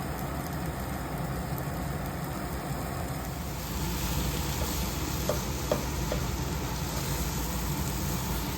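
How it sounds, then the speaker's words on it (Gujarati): Sev khamani mixture heats in a pan while it is stirred, giving a low, continuous sizzle and scraping under a steady background hum, with a few faint clicks toward the end. "એને જેમ ગરમ થાય તેમ તેમ હલાવ્યા કરવાનું છે"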